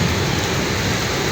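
Heavy rain falls in Gede Bage, eastern Bandung, during a three-hour downpour that caused flooding. It makes a steady, dense hiss of drops hitting surfaces, loud and unbroken throughout with no voices.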